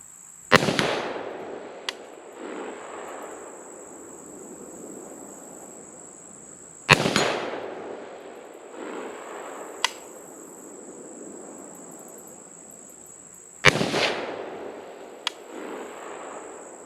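Three sharp, loud rifle shots from a Zastava ZPAP85 firing 55 grain Wolf soft point rounds, spaced several seconds apart outdoors, each with a rolling echo and a faint distant impact shortly after, over a constant high insect-like hiss.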